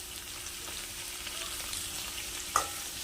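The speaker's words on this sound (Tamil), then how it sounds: "அடுப்பை ஹை ஃப்ளேம்லேயே வச்சுக்கிட்டு ஒரு ரெண்டுலேருந்து மூணு நிமிஷம் நம்ம நல்லா வதக்கிக்கலாம் வெங்காயம் கேப்சிகம் நல்லா வதங்கிடும்" Onion and capsicum sautéing in a pan over a high flame, a steady frying hiss with faint stirring and a single sharp clink near the end, close and quiet with no voices.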